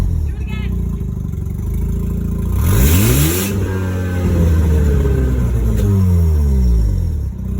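An older car with its original engine cranks and catches quickly, then revs up and down in a couple of close, loud swells before settling.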